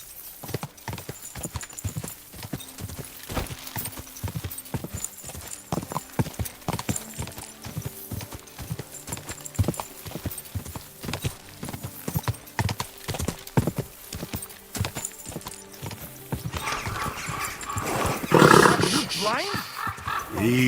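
A horse in Kingdom Come: Deliverance 2 clip-clops at a steady rhythmic gait, hoofbeats close and distinct, with talk in the clip and a louder rush of noise near the end.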